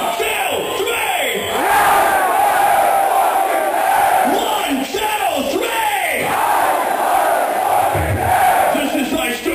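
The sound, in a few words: concert crowd screaming a band name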